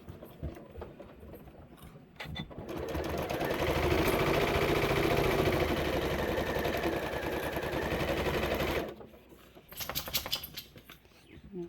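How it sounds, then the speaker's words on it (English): Close by, a sewing machine stitches across a quilt block in one steady, whirring run of about six seconds, with quieter handling sounds before and after. "I'm going to go ahead and stitch that all the way across."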